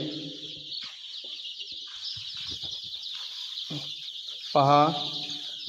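Young country chickens in a brooding shed keep up a constant high peeping, with one louder, nearer chirp near the end. Someone speaks briefly over them.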